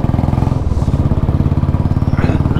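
A Royal Enfield Bullet motorcycle rides along a road, its thumping single-cylinder engine loud and close, with a steady, even beat running throughout.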